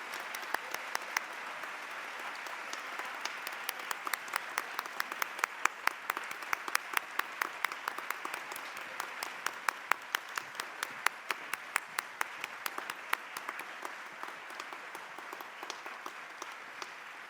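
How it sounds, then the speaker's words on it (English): Applause for inductees at a high school National Honor Society induction, a fairly quiet but steady patter of many hands with distinct individual claps popping out through the middle, slowly thinning toward the end. "One big round of applause for all of our inductees."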